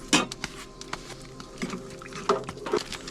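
Pieces of seasoned lamb T-bone trim and bone dropped into a pot at a snowy winter campsite, with a few clanks and knocks of metal cookware and soft squishy handling noises, close and intermittent.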